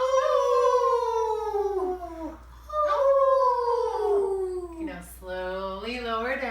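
Several people in a yoga class howl like dogs at the moon, voices imitating long rising-and-falling wolf-like howls in two or three sustained waves, close and clear.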